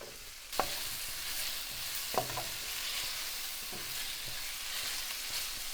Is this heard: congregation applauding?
no